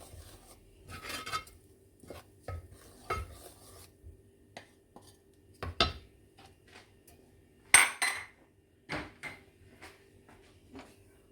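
Grated tomatoes go into a pan for a spicy paneer and peas chutney, giving soft scattered clatters and scrapes of utensil against cookware, fairly quiet and irregular, with no talking.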